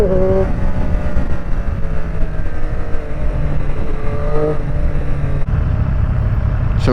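A 2021 Triumph Street Triple RS motorcycle engine runs loud and close while riding, droning steadily with brief rising revs that swell and fade against heavy rumble and wind.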